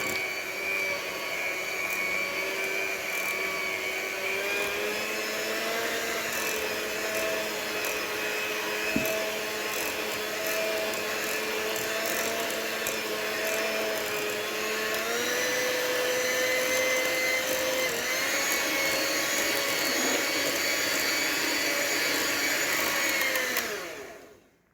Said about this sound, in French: vous prenez un robot ou un batteur, votre fouet aussi